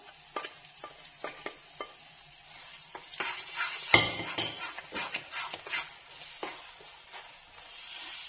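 Mashed brinjal frying in oil is stirred with a utensil, giving a soft sizzle and irregular clinks and scrapes against the pan, with one sharper knock midway.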